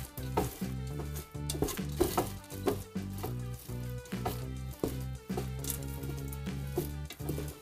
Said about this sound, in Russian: Надо хорошо перемешать, чтобы семечки равномерно пропитались вот этой карамелькой.